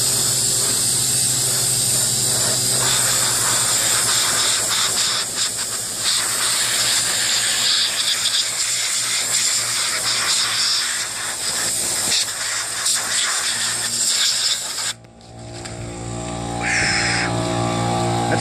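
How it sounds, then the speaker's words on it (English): An air compressor nozzle blasts out a rodent nest from a lawn tractor mower, a loud, steady, close hiss that runs for about fifteen seconds before cutting off abruptly, leaving quieter background sound. "So I'm gonna turn on my air compressor and blow it out."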